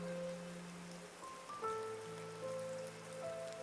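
Rain falls steadily in the medieval city-building game Fabledom, a soft continuous patter lying under calm sustained music tones with no voices.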